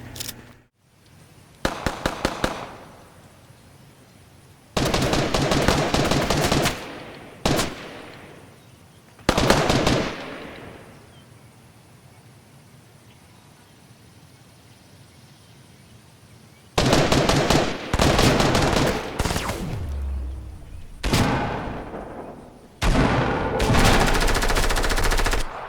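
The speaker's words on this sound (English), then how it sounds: "I get him with a nice pump shot, finish him with the SMG." Bursts of rapid submachine gun fire from a Fortnite match crackle in several loud clusters separated by quieter stretches of game ambience, the shots dense and sharp, with no voices.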